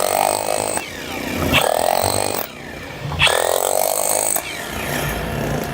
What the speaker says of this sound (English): this is light duty chiseling